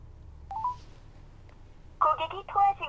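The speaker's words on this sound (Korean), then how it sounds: "고객이 통화 중이어서 삐소리 후" A short electronic tone sounds once, then a quick run of telephone beeps follows after a pause, clear and close.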